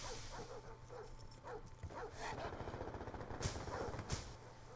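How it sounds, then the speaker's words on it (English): Dogs barking in Call of Duty Black Ops 2, a string of quick barks and yips over a low game hum, with a couple of sharp gunshot cracks toward the end and some faint voices. "Can't believe you could get dogs through care package."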